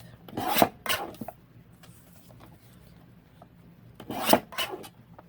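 Paper being cut and trimmed to size for a pocket book page, two short bursts of rasping slicing strokes near the start and again near the end, quiet between, no talking.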